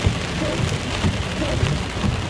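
Torrential rain pours down on a road in Australia, a loud, steady roar with low rumbling of thunder underneath, continuous throughout with no voices.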